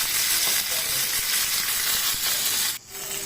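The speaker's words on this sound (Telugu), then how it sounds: "పచ్చిమిరపకాయలు వేసుకొని కొంచెం అట్లుగా ఫ్రై చేసుకోవాలండి" Green chillies fry in hot oil in a pan, a loud continuous sizzle and crackle filling the whole stretch, dipping briefly near the end before resuming, with no talk.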